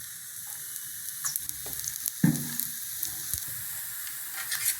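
A seven-leaf dosa fries crisp in ghee on a pan, giving a steady close sizzling hiss with a few soft taps and scrapes from the spatula.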